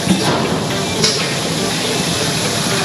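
Commercial laundromat washing machine starting up, with a loud, steady rush and hiss of water filling the drum, rather close, and a faint metallic clank or two underneath.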